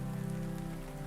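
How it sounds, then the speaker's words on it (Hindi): Heavy rain pouring steadily onto surfaces, a dense, continuous hiss of drops at a constant level with no voices. "बाहर बहुत तेज बारिश हो रही है"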